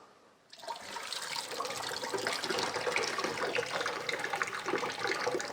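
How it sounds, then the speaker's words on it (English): Boiled potatoes are drained, water suddenly gushing out in a loud, steady splashing pour after a brief quiet start, continuing evenly without talk. "So drain these guys off."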